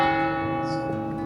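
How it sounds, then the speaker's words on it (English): A church bell in Barcelona rings with a sustained, resonant tone that hangs and reverberates for the whole moment, loud and fairly close, with no voices. "The way the bell reverberates, real nice."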